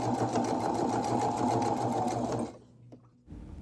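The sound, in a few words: sewing machine stitching trim on a bodice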